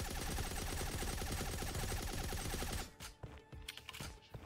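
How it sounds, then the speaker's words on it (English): Rapid automatic gunfire during Counter-Strike 2 shooting practice, a dense continuous burst of shots at steady loud level, then stopping and giving way to a few scattered, quieter single shots. "let's actually go practice shooting"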